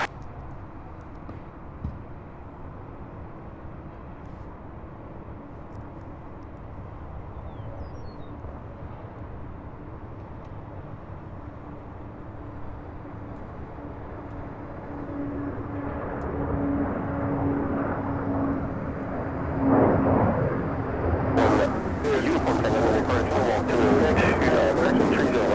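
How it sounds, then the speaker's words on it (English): An MD-82 jet airliner takes off from the airport at SDF. Its distant engine roar is faint at first, then swells and grows louder over many seconds within an open outdoor ambience. "Oh, the MD-82 taking off."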